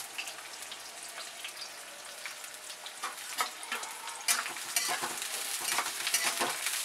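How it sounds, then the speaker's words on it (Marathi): Bay leaves, chopped onion and green chilli fry and sizzle in a pan with steady crackling, stirring scrapes growing louder and busier toward the end, close and continuous without talk. "2 तेजपत्ते, कांदा आणि बारीक कांदा, हे बघा हिरवी मिरची, हे सगळंच मी आता भाजून घेते"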